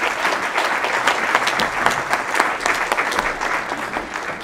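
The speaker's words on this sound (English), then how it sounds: "give a good round of applause to Carl Rosen" An audience at a labor union hall meeting applauds Carl Rosen, steady, dense clapping from a room full of people that holds for several seconds and then starts to fade.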